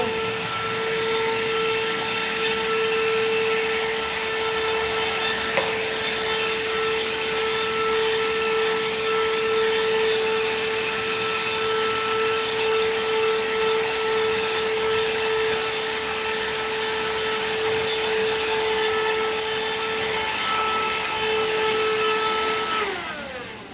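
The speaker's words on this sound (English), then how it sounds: "another tool that I have is just a hand vacuum." A small handheld vacuum cleaning a guinea pig cage liner whirs steadily with a high, constant motor whine for over twenty seconds, then cuts off abruptly at the end.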